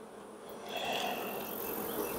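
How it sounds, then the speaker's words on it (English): Honeybees swarm around an open hive box full of capped honey, making a close, steady buzzing hum that swells slightly over a brief moment with no voices. "Phenomenal bees."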